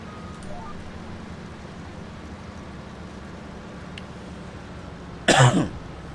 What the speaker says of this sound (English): So if you hear me kind of coughing